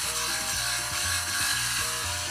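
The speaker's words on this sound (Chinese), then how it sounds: "等差速齿轮冷却下来后，就该拿到角磨机上打磨了。" An angle grinder grinds weld scars off a cooled differential gear with broken teeth, working along the tooth direction; a steady, close, abrasive grinding whine runs continuously with a pulsing low hum beneath.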